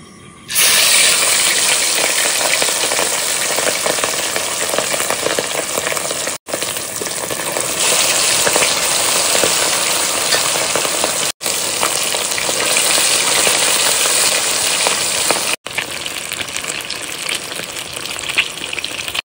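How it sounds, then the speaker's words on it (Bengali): Hilsa fish pieces, rubbed with salt and turmeric, fry in hot oil with a loud, continuous sizzle and spitting. The sound stays close and dense, with a few brief breaks. "বন্ধুরা তেল গরম হয়েছে, এবার ভেজে নেবো ইলিশ মাছ।"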